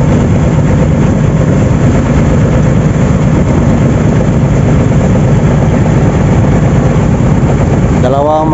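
A boat engine runs steadily at a steady drone, loud and close, with a low, heavy rumble throughout and no breaks in its tone.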